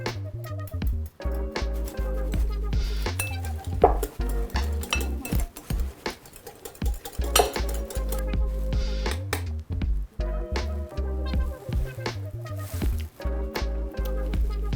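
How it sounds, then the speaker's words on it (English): A whisk clinks and scrapes against a bowl while mixing a sauce with smoked paprika, busy irregular metallic tapping over a low kitchen hum. "I'm going to whisk all that together."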